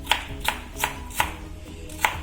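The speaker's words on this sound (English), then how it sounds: "I'm going to simply cut it in each piece in half and slice it." Cucumber sliced with a knife on a cutting board for a dairy-free cucumber and mint raita: six crisp, evenly spaced chops up close, with no talking.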